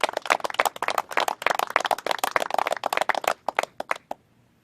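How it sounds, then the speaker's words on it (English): An audience at a governors' press conference on the Texas border applauds National Guard and law enforcement, with dense, close clapping that thins into scattered claps and stops near the end. "can we give them a round of applause too, please?"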